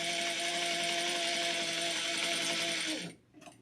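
A sewing machine stitching with 40 weight polyester thread runs steadily with a loud, dense whirring hum and a faint odd tone. It stops abruptly near the end, leaving brief faint handling sounds.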